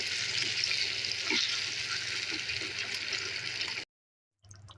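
Broiler chicken curry, with fried meat, potatoes and cooked-down spices, sizzles loudly in the pan as water is added, giving a steady hiss that cuts off abruptly and then returns faintly.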